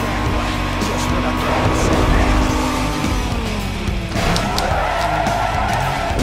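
A race car roars through Need for Speed Most Wanted, engine loud and continuous with tire squeal and shifting pitch as it corners, while a voice talks over it.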